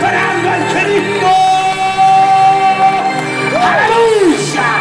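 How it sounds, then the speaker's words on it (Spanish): A church congregation at an evening revival campaign cheers loudly, with sustained crowd noise, rising shouts and whoops that swell near the end; claps are not clearly separable beneath the voices. "Cuánto le aplaude fuerte los que están esperando al Cristo."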